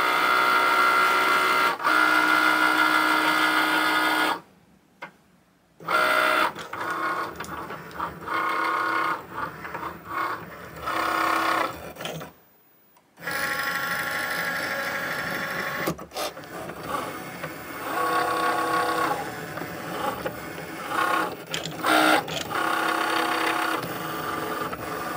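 A Cricut cutting machine cuts a Halloween bunting project with buzzing, whirring motor passes that start and stop, broken by two short pauses of near silence.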